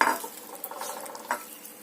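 Curry being stirred in a pot for a Minang gulai ampok-ampok, a spoon scraping through thick simmering sauce with a soft sizzle, close and steady, a few sharper scrapes standing out.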